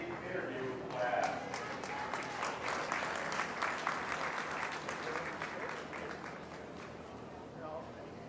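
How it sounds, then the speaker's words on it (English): Audience applause at a 2019 beef show livestock event: sustained, dense clapping from the crowd fills the whole stretch, with a voice speaking over it. "We can give a round of applause to Nick Lazork"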